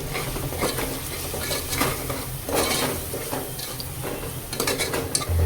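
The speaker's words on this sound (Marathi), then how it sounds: "धनेपूड 1 चमचा आणि जिरेपूड 1 चमचा। आता यालाही छान परतून घेऊ।" Ground coriander and cumin with chili powder being sautéed in a pan for Maharashtrian masale bhat, a steady close sizzle broken by repeated scraping stirs and the clink of a metal spoon against the pan.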